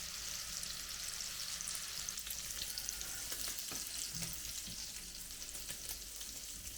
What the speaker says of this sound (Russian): Вот, шинка уже шкварчит.